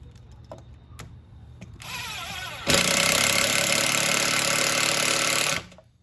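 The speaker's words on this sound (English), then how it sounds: "So let's put a screw in the top right here." A power drill drives a screw into the top of a tiny camper during a budget build, whirring loud and steady for several seconds after a few short clicks and bursts, then cutting off.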